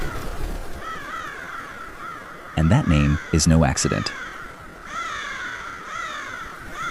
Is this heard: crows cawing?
yes